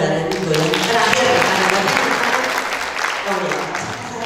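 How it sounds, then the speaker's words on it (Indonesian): An audience claps together in a sustained burst of applause, with a voice talking over it near the end. "Tepuk tangan bareng-bareng boleh"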